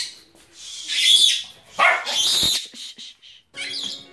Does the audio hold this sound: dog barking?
yes